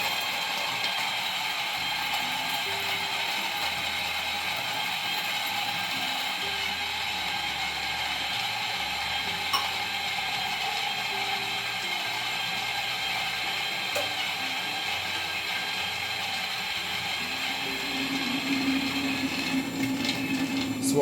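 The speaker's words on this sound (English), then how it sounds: "So this is set to 38 settings, 38 steps on the grinder." A manual coffee grinder for the Starseeker Super58 portable espresso setup, set to 38 steps, turns with a steady ratcheting, clicking mechanical grind that continues close and even throughout, with no voices.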